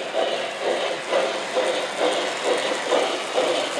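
A model train engine runs along its track, giving a steady mechanical whir with a regular clicking pulse about twice a second.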